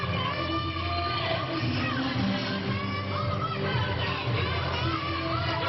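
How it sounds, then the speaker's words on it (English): A crowd cheers and shouts through a women's gymnastics meet between Oklahoma and Alabama, a steady, somewhat distant roar of voices with whoops, and no clear talking over it. "A lot of cheering"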